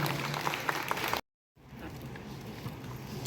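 An audience claps for students at a school results celebration, a dense, steady patter of applause that cuts out abruptly for a moment before resuming at a slightly lower level.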